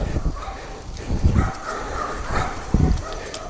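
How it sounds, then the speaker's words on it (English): Dogs behind a fence give several short, rough barks at irregular intervals, fairly close against outdoor background noise. "Hello, dogs that used to chase me."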